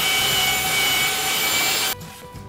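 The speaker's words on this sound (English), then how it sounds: "Got the belt sander, got my safety goggles, and I am going to sand this piece of wood here." Belt sander working a live edge wood board, a loud, steady, close abrasive whir and rub that cuts out abruptly near the end, leaving quieter room noise.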